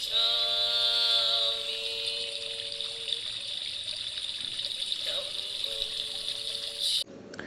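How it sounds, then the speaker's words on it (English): Synthetic dripping water mixed with Buddhist chanting plays from a small MP3 decoder through speakers, a steady bright electronic trickle with a faint sustained chant tone underneath, moderately quiet, cutting off abruptly near the end. "mixed a few sounds like dripping water and Buddha chanting and gave it a go with battery"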